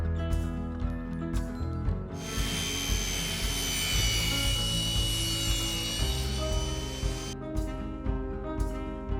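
A table saw with a crosscut sled cuts a mitered wooden base edge, giving a loud, steady whining rasp that swells as the blade bites into the wood, framed by the motor's hum and with no talking.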